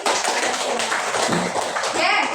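Primary school children in a classroom clap out a counted clap pattern, a busy burst of small hands clapping under lively young voices chanting along.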